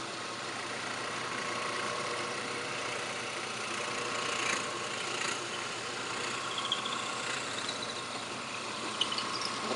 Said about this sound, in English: Now to drill a hole to accept the dowel.